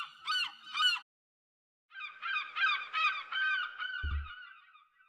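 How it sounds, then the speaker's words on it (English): Seagulls call loudly and close by: two sharp cries, a short pause, then a run of repeated squawking calls, with a brief low thump near the end. "you hear seagulls"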